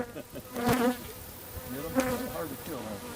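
Angry honey bees buzz around an open hive, with sharp close passes swelling and fading twice as individual bees zip by the listener over a quieter background hum.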